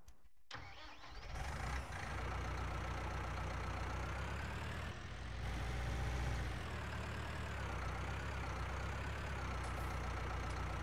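A tractor engine in Farming Simulator 19 starts and settles into a steady, rumbling idle, close and continuous, with no talking.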